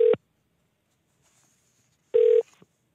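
Two short electronic telephone tones from a call connecting on a radio show, one at the start and another about two seconds later, clean and steady over near silence.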